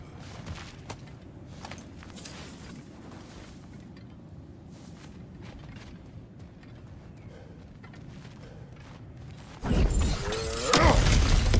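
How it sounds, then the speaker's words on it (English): Breakable objects smashed in the God of War Ragnarök forest on PC, with a low ambient game bed and crunchy impacts building to a loud burst of shattering and crashing near the end. "back to smashing through things for fun and profit"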